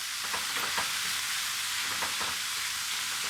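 Chicken pieces sizzle and fry in a hot pan for pad Thai, a steady bright hiss with occasional crackling pops, close and continuous with no talking.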